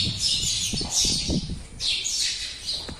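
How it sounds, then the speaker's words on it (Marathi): Sparrows chirp at the Surya Narayan temple near Pandharpur in Solapur district, with a few quick bursts of bright, high twittering close by over a low background murmur, all without talk. "दिवसात चिमण्याचा असा"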